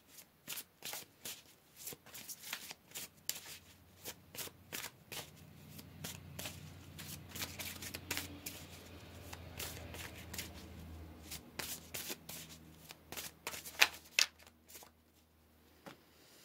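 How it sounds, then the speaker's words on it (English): Tarot cards are shuffled and pulled from the deck in a steady run of crisp riffles and snaps, close up and sustained, with a few sharper flicks near the end and no talking. "let's go ahead here and pull another card"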